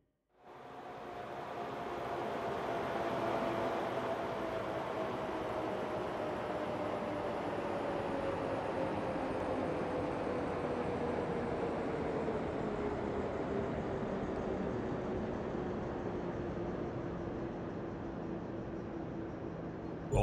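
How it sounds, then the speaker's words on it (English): A train approaching in the railway-building video game Rail Route, heard as a long, steady rumbling roar with a slowly falling whine that holds for about twenty seconds, no talk. "Sounds like we've got a train approaching."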